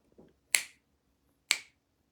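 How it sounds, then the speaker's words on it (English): Two crisp, sharp finger snaps ring out about a second apart in a quiet room, each with a short decaying tail. "the way you can tell right now whether you're sitting in a dead room or a live room is if you snap your fingers"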